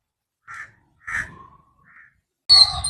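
Crows cawing as birds gather to be fed: a few short, separate calls close by, spaced out over quiet, with a louder harsher caw at the end.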